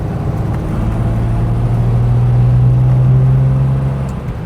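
A Ford Granada MK1 with the 2.5 litre engine drives along, giving a steady low engine drone and road rumble that swells slightly midway and holds close and constant throughout, with no talking.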